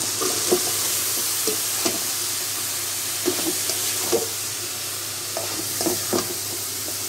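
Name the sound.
eggplant pieces added to hot oil and spices, frying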